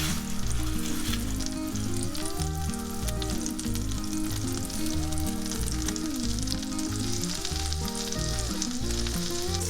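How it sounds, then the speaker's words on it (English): Steak sears in a pan over medium heat, giving a loud, continuous sizzle and crackle with no voices throughout. "So right now I have it on a medium heat. Let's go ahead and add in the steak."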